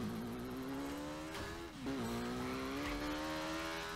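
A motorbike races at high speed in Burnout Paradise, its engine a steady high whine with rising harmonic pitch, a brief dip and squeal midway before it pulls on again, heard at low level.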